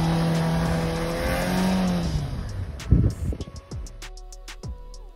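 A Hyundai i20 hatchback climbs a steep off-road incline, its engine revving and straining with a rising drone, then giving way to sharp bursts of tyre scrabble and crunching loose dirt close by.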